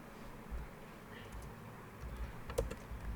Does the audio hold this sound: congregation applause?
no